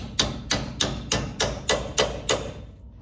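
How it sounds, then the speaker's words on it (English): A small hammer drives a part into place on the steering of a 1959 Chevrolet Impala during a disc brake conversion, with seven evenly spaced metallic blows in close succession. "A little hammer here. Kind of drive it in a little bit more."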